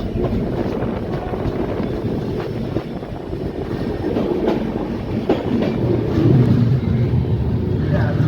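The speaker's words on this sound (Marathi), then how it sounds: "गाडी संख्या 22-723 हजूर साहेब नांदेड श्री गंगानगर सुपरफास्ट एक्सप्रेस 7:23 वाजून पूर्णा जंक्शनवरती पोहोचलेली आहे" Hazur Sahib Nanded–Sri Ganganagar Superfast Express rolling into Purna Junction, heard as a continuous low rumble and rattle of coaches with faint clickety-clack and wind buffeting, steady and fairly loud throughout.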